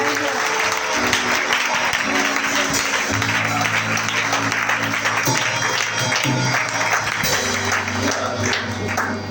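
A church congregation applauds with steady, dense clapping and crowd noise throughout, a loud sustained burst with voices mixed in beneath.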